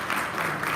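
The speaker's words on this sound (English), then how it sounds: "I'm going to ask that y'all give them a round of applause" Audience applause at a community conversation on caregiving, a brief dense wash of clapping filling the whole short moment.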